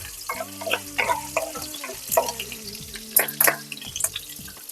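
Curry leaves and slit green chillies frying in a pan for sambar, with crackling sizzle bursts, stirring and clinks, and faint water-like splashes.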